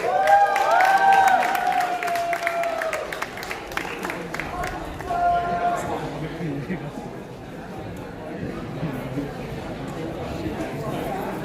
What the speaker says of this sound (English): Please give a round of applause for Aditya Eastwaran!